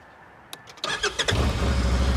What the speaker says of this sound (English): let's just check out the noise before we ride them. I shouldn't say noise, the exhaust tone.